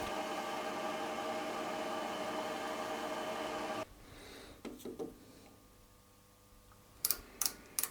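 A Deckel S0 metal lathe turns at 1200 RPM with a steady mechanical whine and hum that cuts off abruptly partway through, followed by quiet room tone and a few sharp clicks and knocks.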